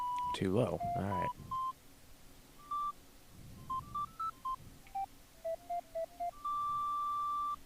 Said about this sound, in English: That, ladies and gentlemen, is Rico Harbor from Super Mario Sunshine